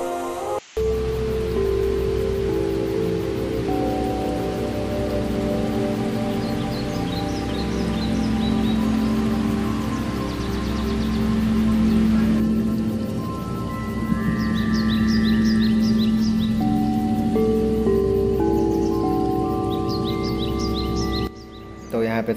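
Steady rain hiss on a slippery trekking trail to Dabarakhol Waterfall in Odisha fills the scene with a low rumbling background, while occasional bird calls chirp faintly above it.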